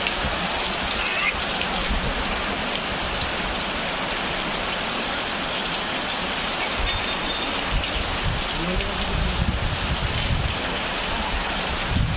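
Heavy rain pours steadily outside, heard from a room indoors as a constant dense hiss with no breaks, at a moderate level.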